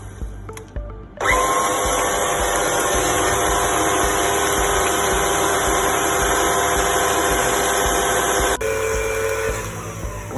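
A stand mixer with a paddle attachment beats eggs into a dessert batter, switching on after a brief pause into a loud, steady motor whir with a high whine, then its tone shifting near the end.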